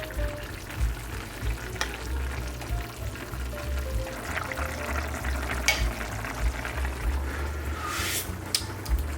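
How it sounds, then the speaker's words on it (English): Spicy Filipino chicken adobo gets mixed in a pan, with scraping and stirring over a steady low simmer and soft sizzle, plus a few sharper clinks of the utensil against the pan. "Now we're going to mix."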